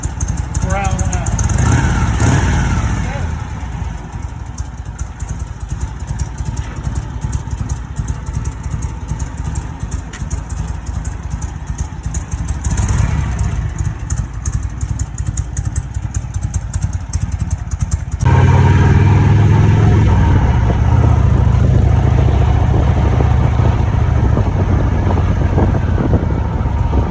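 An old Harley motorcycle engine idles and runs steadily in a garage, a constant low rumble that grows louder and fuller partway through, with voices in the background.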